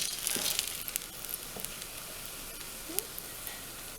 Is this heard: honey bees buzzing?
no